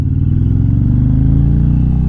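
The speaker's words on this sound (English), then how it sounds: "That is the exhaust note." Exhaust note of a big chopper-style motorcycle idling nearby, a loud, deep, steady thumping rumble with a rhythmic low-end pulse and no talking.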